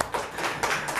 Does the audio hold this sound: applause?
yes